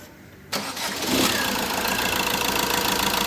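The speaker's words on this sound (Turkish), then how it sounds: "Sağa sola toplanınca daha da motorun sesi değişecek arkadaşlar" A rebuilt Fiat Doblo 1.3 Euro5 engine cranks and starts after a brief quiet moment, then settles into a loud, close, steady running clatter.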